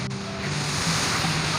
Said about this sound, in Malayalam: അപ്പോൾ നമ്മൾ ഈ വെള്ളച്ചാട്ടത്തിന് മേളിലെത്തിയിരിക്കുകയാണ്.